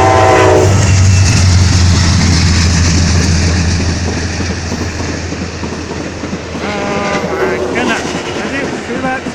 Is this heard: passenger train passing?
yes